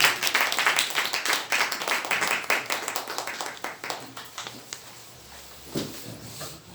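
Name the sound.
congregation clapping to welcome a guest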